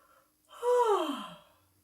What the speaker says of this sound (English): I am going to yawn.